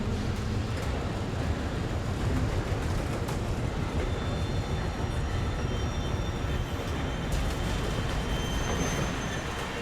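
Roller coaster train running on its track in a coaster and ride building game: a continuous rumbling, rattling roll with faint high metallic squeals threading through, steady and fairly loud throughout.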